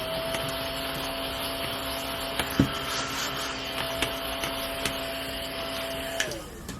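A steady motorized drone with a constant whine runs throughout, with a few faint clicks and bumps over it before it winds down at the end.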